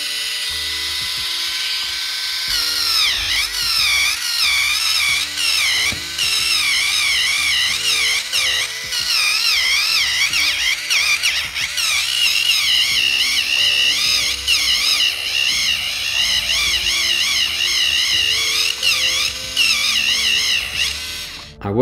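An electric foot file grinds a very dry, badly damaged heel at speed 1, a loud close whine that wavers in pitch as the rotating head presses and lifts, running continuously with no talk.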